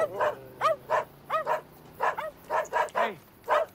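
Several dogs bark in quick bursts, about a dozen loud yaps and yips spread across the moment with a whimpering yelp near the end, close by and with no talk over them.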